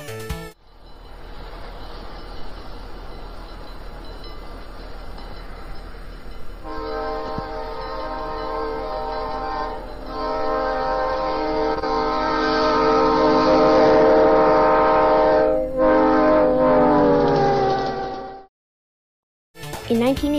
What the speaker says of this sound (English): these came equipped with a Leslie RS3L horn